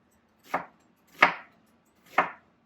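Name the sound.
knife chopping an onion into small pieces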